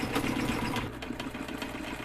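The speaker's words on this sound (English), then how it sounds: "This is a free sewing machine that nobody wanted." A free household sewing machine, not an upholstery model, stitches go-kart seat upholstery with a steady, fast mechanical whir and chatter heard up close.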